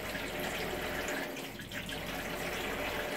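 Water pours steadily from a tap into a clean-water tank being cleaned and disinfected, a continuous close rushing splash with no talking.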